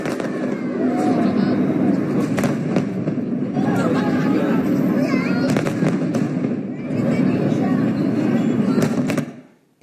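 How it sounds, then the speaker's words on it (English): Fireworks burst over a city of seven million people in a celebration for a conference. Dense crackles and booms roll on continuously for several seconds, then fade out abruptly at the end. "This was a fireworks display to a city of 7 million people just to celebrate a conference."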